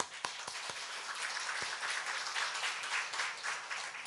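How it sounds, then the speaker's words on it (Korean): Church congregation clapping together during a sermon, a dense, steady wash of many hands sustained for about four seconds, with a few sharper individual claps standing out near the start. "우리 한번 다 함께 박수 한번 치겠습니다"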